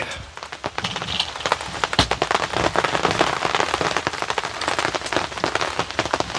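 Raindrops shaken from trees after a shower patter onto a tarp in the woods, a dense, irregular scatter of close taps and splats continuing steadily without talk.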